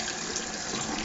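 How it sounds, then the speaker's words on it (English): Water poured in a steady trickle onto an oil sharpening stone during razor honing, a soft continuous splashing stream close by with no talk. "add just a tiny bit of water to that"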